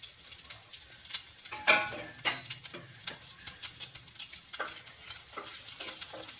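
Kashmiri chilies and urad dal fry in a pan, giving a close, crackling sizzle broken by repeated sharp spatula scrapes and taps in an uneven rhythm.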